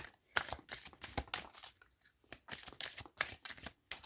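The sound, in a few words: overhand shuffling of a tarot card deck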